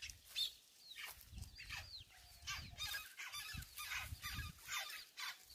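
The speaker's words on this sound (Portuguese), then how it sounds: "Meu esposo falou que isso aqui é o pássaro preto." A flock of chopi blackbirds sings together among sugarcane in a rural farm backyard. Dense, overlapping chirps and whistled calls come in constant bursts, near and lively, with no talking.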